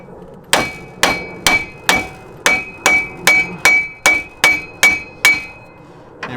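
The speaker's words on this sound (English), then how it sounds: "We'll go ahead and give this a few whacks, get that to pop out." An old drag link is knocked loose with about twelve hard, evenly spaced hammer blows, each a sharp ringing metallic clang close to the listener, during Jeep suspension work with no voices.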